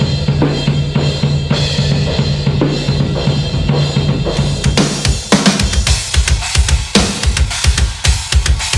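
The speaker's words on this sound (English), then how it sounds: "the main sound you hear is the sound that was captured by the mics." A natural acoustic drum kit captured by microphones, with snare and kick lightly reinforced by samples, plays a busy groove under music, dense cymbal wash and punchy hits building louder midway through.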